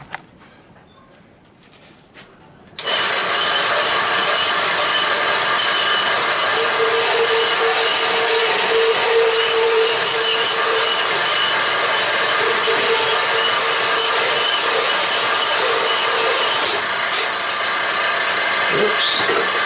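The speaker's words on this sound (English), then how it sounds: "I think the bandsaw come off the wheel." A bandsaw cutting through an air compressor motor and pump starts after a quiet few seconds and settles into a loud, steady, close whine and hiss that runs unbroken to the end.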